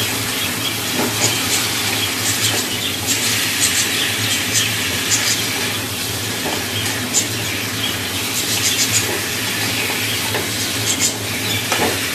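Pieces of chicken fry in a lightly oiled pan, giving a loud, dense, unbroken hiss and sizzle while a spoon keeps turning them, heard up close without talk.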